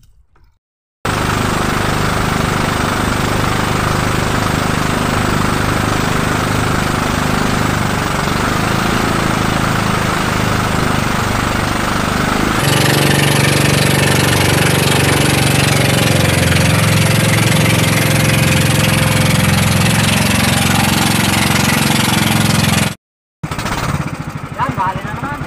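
Small fishing boat engine running loud and steady at close range while chasing skipjack tuna at sea, a rough continuous drone that shifts in tone partway through, then cuts briefly near the end, with someone talking over it.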